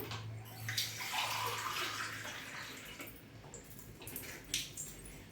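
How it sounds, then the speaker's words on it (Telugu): Water pours steadily into a pot of rice, a continuous splashing gush with a low resonant tone, close by and with no voices. "ఇప్పుడు ఇందులోనే మనము వాటర్ యాడ్ చేసుకుందాం."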